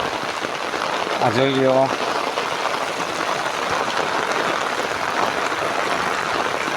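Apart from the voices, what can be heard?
heavy rain in a village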